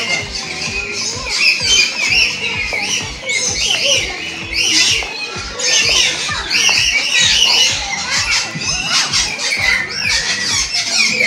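Many birds squawk and screech together at the Palembang bird park, a loud, dense, continuous chorus of overlapping shrill calls with busy background noise.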